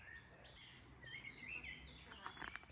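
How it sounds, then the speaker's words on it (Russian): Birds sing in the garden of a castle at Velden am Wörthersee, giving faint, distant chirps and short warbling phrases over a steady outdoor hush. "Птицы поют, видите."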